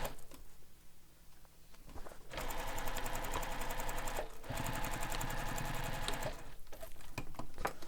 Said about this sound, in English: Just going to stitch that open.